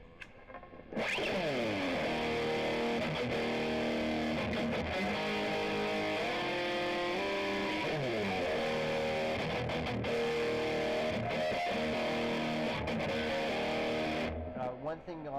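Electric guitar through a distortion effect, sustained chords and harmonics ringing with a thick, saturated buzz, loud and continuous for most of the passage before cutting off near the end.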